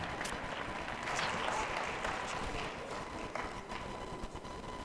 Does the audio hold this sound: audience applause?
yes